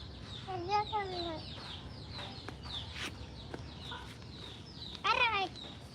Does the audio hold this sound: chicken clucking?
yes